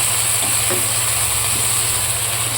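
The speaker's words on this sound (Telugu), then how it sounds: "ఐదు నిమిషాలు ఇలా కలుపుకుంటూ ఉండాలి" Steady sizzling and scraping as fenugreek leaf and moong dal curry is stirred in a hot pan, a continuous close frying hiss with faint utensil clinks and no voices.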